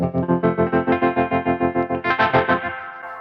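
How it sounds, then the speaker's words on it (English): Clean electric guitar through drive and a Boss FRV1 reverb with a Dophix Galileo optical tremolo engaged, a sustained chord pulsing in a steady even rhythm of about sixteen throbs before fading, loud and alone. "with the Galileo kicked in"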